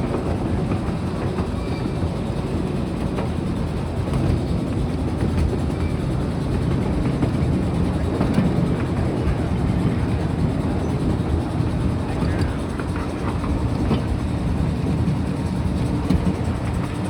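Miniature train running on the Wabash Frisco & Pacific Railroad main line, a steady rolling rumble with faint wheel clatter sustained throughout at an even, moderate level with no voices.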